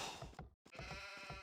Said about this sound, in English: you get 4 starting sheep and you get 4 extra sheep